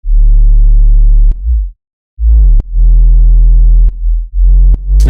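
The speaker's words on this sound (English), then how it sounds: "It's pretty simple to get some nice heavy wubs just by using sine waves and a couple different tricks" Heavy dubstep wub bass built from sine waves: three loud, sustained droning bursts with deep harmonic buzz, separated by brief gaps and short low thumps.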